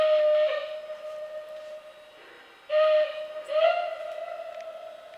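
A Lionel Vision CC2 0-8-8-0 model steam locomotive sounds its whistle effect: a sustained steady tone that fades, then two more short whistle blasts, with a faint hiss underneath.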